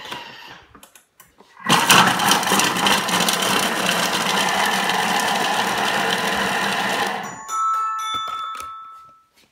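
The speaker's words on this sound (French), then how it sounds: "Et on va mixer 5 secondes, vitesse 5." A Thermomix food processor mixing carrots at speed 5 starts abruptly into a loud, steady whirring roar that lasts about six seconds, then cuts off, followed by a few faint electronic beeps.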